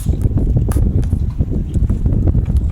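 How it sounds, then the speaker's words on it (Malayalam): Strong wind roars across the microphone beside a bridge while out fishing, in a loud, steady low rumble with gusty bursts throughout, and no one speaks. "ശക്തമായ കാറ്റുണ്ട്, അതുകൊണ്ട് ശബ്ദം ക്ലിയർ ആവുമോയെന്ന് അറിയുന്നില്ല"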